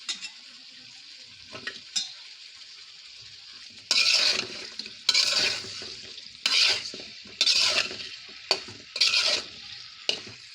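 Washed eggplant and potato pieces hit a hot pan of oil and fry with bursts of loud close sizzling, broken by spoon scrapes and clinks of cookware as they are stirred.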